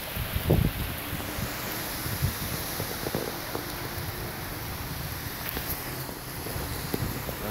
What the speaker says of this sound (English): Look at that wind, y'all